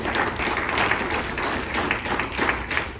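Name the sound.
audience applause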